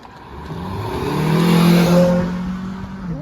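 A car drives past on a village road, its engine note rising as it approaches and peaks close by, then fading away; no voices over it.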